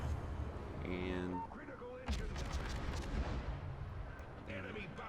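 Destroyer guns firing in the naval battle game World of Warships, a Benson engaging an enemy ship: a run of heavy, booming shots with rumbling blasts over a steady engine and sea drone, alongside tonal game effects.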